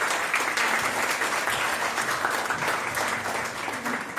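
An audience at a language conference applauds continuously to welcome a guest presenter, a steady wash of many hands clapping at a fairly distant, even level.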